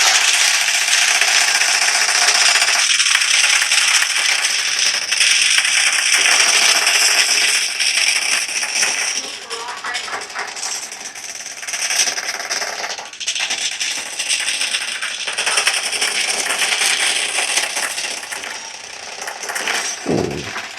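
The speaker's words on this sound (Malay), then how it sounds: "Saya akan naikkan speaker yang paling tinggi supaya korang boleh dengar sendiri sound dia sedap tak sedap." Gunfire, clatter and dense game effects from the shooter Delta Force pour out of a Xiaomi 17T Pro phone speaker at full volume, loud and bright without a break for about twenty seconds, with no talking.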